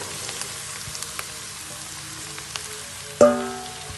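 Pumpkin dropped into a pan of fried garlic and onion for kaddu sabzi, a soft steady sizzle crackling throughout, then a sudden louder hiss and clatter as the pieces hit the hot oil near the end.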